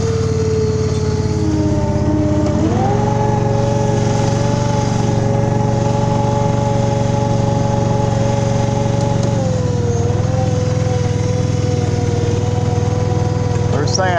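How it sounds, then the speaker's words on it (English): Greens mower on a golf course putting green running steadily and loud up close, with a high engine whine that dips and shifts in pitch as the cut proceeds, no talk. "I'll mow a green and take you along with me real quick."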